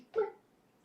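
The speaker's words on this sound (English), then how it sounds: "Sorry, my dog is bored." A bored pet dog gives a single short whimpering yelp indoors, close and fairly soft, then falls quiet.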